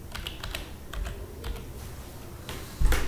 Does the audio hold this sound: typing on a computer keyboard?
yes